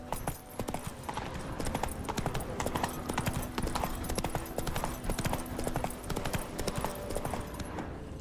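Roach the horse gallops in The Witcher 3, a steady rapid clip-clop of hooves running continuously and close, with no voices over it.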